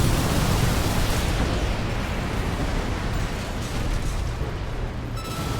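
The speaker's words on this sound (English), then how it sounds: "Just watching the pretty fireworks." A continuous roaring wash of explosion noise from fireworks during an Arena Royale battle in Armored Core VI, loud and dense throughout with no clear individual bangs.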